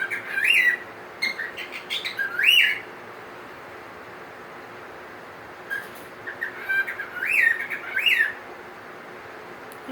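A cockatiel mimics tropical bird calls, giving loud, clear whistled phrases with rising and falling squawky chirps in two bursts, separated by a quiet stretch of faint room hiss.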